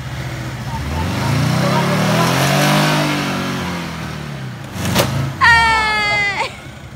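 A car engine revs and strains as it tries to tow a motorhome stuck in mud on a road trip toward Ushuaia, with a rising, sustained drone, a brief knock and a whining rev near the end, while people talk.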